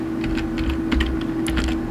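Fingers tap a computer keyboard in a quick run of light, close clicks over a steady low electrical hum, with no talking.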